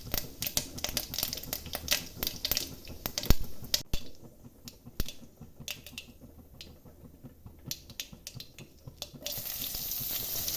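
Mustard seeds crackle and sizzle steadily in hot oil while sharp pops burst irregularly throughout, louder at the start and then settling into a busy, close-up spatter.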